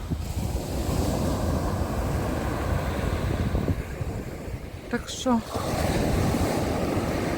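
Stormy sea surf and gusting wind on the Odesa shore at Langeron, a steady loud roar of breaking waves and microphone wind buffeting throughout, with brief speech partway through.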